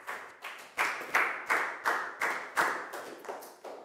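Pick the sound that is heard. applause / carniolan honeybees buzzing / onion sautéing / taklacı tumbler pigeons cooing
applause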